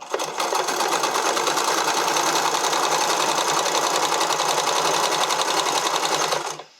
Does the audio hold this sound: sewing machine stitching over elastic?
yes